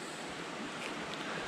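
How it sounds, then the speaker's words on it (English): Creek water flowing steadily at a winter bushcraft camp, a continuous broadband rush and burble with no breaks, fairly close, with no voices over it. "enjoying the sounds of the creek at the bushcraft camp."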